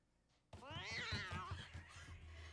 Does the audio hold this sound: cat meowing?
yes